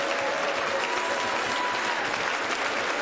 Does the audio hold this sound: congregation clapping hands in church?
yes